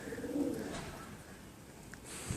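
Soft, low cooing from a male pigeon rumbles in the background of a coop amid faint ambient noise, with a small chirp and a light knock near the end.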